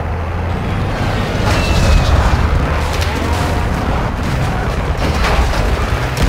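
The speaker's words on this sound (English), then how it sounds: "Friendly cruise missile inbound." Cruise missile airstrike explosions in Call of Duty Modern Warfare 2 roar as a dense, continuous rumble of booms and blasts, loud and close, with no pauses.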